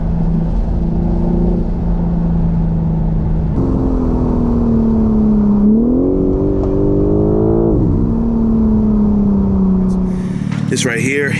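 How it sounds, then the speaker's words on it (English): A BMW M4 G82 with the S58 engine idles and revs, its exhaust droning steadily with a rise in pitch midway, then dropping back; loud and close throughout, ending with a brief rustle. "give me some revs so I can show you guys."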